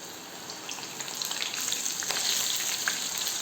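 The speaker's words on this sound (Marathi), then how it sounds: "आपलं तेल तापले. तेलामध्ये आपण कॉर्न सोडूया." Corn kernels coated in cornflour and maida fry in hot oil, producing a dense, rising crackling sizzle with scattered pops, close and steady with no voices.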